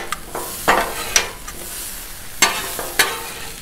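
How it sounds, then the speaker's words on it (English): Carrots on a 36-inch Blackstone griddle crackle softly while a spatula scrapes and taps the steel in several sharp strokes. The sound is near and clear, with no talking. "Let's mix up these carrots right here."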